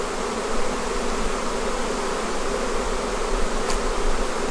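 Honeybees fan hard during a massive swarm in a bee yard, a dense, loud, continuous buzzing drone from many insects close around, steady throughout with no voices.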